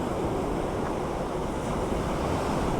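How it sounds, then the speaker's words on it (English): Sea waves pound the rocky shore at Cala Ratjada, Mallorca, in a steady, loud wash of surf mixed with gusty wind noise on the microphone, with no voices. "It's something I can just sit and watch these waves"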